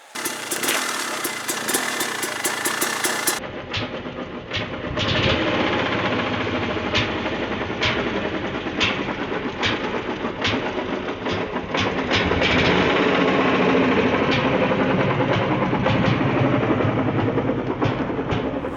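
A dirt bike engine putters steadily at low revs on an enduro downhill descent, with a continuous rough drone and occasional sharper blips throughout, close and loud with no talk.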